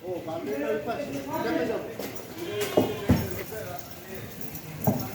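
Goats at Green Farm House, kept alongside small cattle for Qurbani, give several wavering bleats early on, followed by a few sharp knocks, all under near-constant talking.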